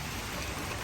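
Rain pours onto a garden in a video game, a dense, even hiss of falling drops that stays constant through the brief moment, with no voices.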